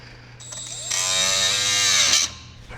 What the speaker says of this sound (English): So I'm gonna try cutting them away with my die grinder.